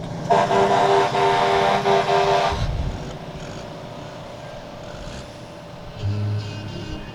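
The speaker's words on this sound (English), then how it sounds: "yes, Rouse's Point with the ladder truck." A fire department ladder truck in a Christmas parade sounds a long, loud horn blast for a couple of seconds up close, followed by idling engine rumble and another short low honk near the end.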